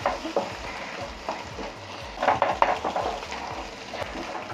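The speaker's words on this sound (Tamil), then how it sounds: "இந்த மாதிரியே அந்த முட்டையெல்லாம் சேர்த்து நல்லா ப்ரெட் கூட மிக்ஸ் பண்ணி விட்டுக்கோங்க" A spoon works through an egg and bread mixture in a pan for a quick snack, making repeated close stirring and scraping sounds over a faint continuous sizzle. The scraping grows louder toward the middle, and no one speaks.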